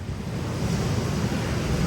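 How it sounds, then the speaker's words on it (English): Ocean waves surging up a sandy beach, a continuous loud roar of surf mixed with wind buffeting the microphone, steady and close with no voices. "Those waves are coming all the way up here."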